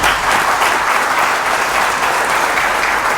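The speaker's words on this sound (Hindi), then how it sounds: "भारत की उस शक्ति के नाम आपको ताली बजानी चाहिए" An audience applauds at a talk, a loud, continuous roar of many hands clapping that holds steady and even from start to finish.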